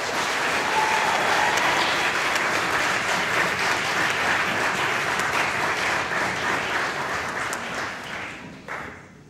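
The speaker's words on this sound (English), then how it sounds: "can we have a round of applause to show appreciation for such an amazing effort by everyone" Students fill a hall on a guild election results night with a long, dense round of applause, steady and loud throughout before it tapers off at the very end.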